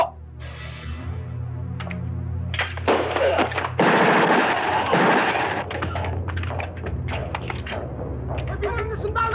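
Gunfire erupts in a 1986 Filipino action film as a soldier is shot: loud, dense bursts of shots and heavy thuds over several seconds, mixed with urgent shouting voices.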